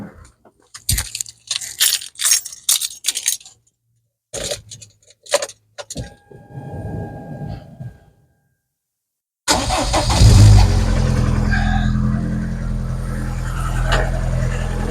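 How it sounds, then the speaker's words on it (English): A Rover 25 GTI with a K-series engine and a suspected coolant leak: keys jangle and click, a pause, then the engine cranks and fires into a loud, steady idle close by. "So let's go turn the engine on and see what happens."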